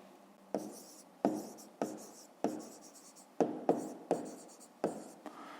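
Pen on paper writing out a grade 5 math solution by hand, a series of about nine sharp scratchy strokes and taps, each fading quickly, close and clear in a quiet room with no talking.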